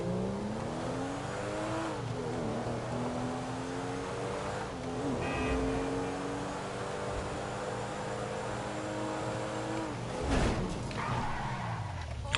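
A Porsche in a GTA game roars through its gears, the engine note climbing and dropping repeatedly with gear shifts and a brief skid, loud and continuous.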